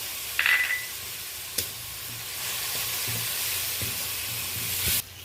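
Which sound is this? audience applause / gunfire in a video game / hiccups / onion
onion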